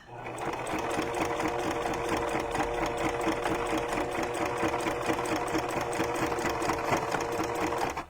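A sewing machine runs steadily and close by for the whole stretch as it stitches a junk journal cover decorated with ribbon, its needle clattering in a fast, even rhythm.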